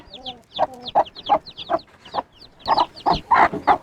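Mother hen clucking repeatedly in short, rhythmic calls to her day-old Sussex chicks, with faint high chick peeps between the calls, close and clear.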